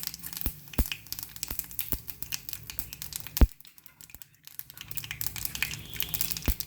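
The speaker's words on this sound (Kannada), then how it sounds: "ಕರಿಬೇವಿನ ಸೊಪ್ಪು ಸ್ವಲ್ಪ ಹಾಕ್ತಾಯಿದ್ದೀನಿ" Mustard seeds and curry leaves crackle in hot oil for a tempering, a close run of sharp, irregular pops and crinkles with one louder snap midway and a brief lull before the spitting resumes.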